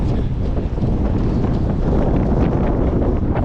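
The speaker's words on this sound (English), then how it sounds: "it's windy" Strong wind buffets the microphone, a loud continuous rumbling roar with no pauses throughout.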